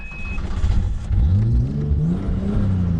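A turbocharged Nissan RB25 in an R32 Skyline drift car revs loudly up close, its engine note sweeping upward in pitch and then holding high as the throttle is worked, with no voices heard.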